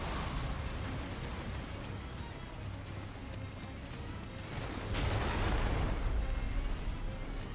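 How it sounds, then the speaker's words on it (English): Cannons boom on the Sekigahara battlefield in Nioh, heavy rumbling blasts over constant battle noise, with a loud burst near the end. "Now the cannons are firing again."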